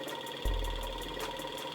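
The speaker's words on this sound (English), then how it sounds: "Get that fuel pump going." An electric fuel pump on a 1988 FZ750 motorcycle under rebuild switches on abruptly and keeps up a steady, low, droning buzz for the rest of the moment, fairly close and with no voices.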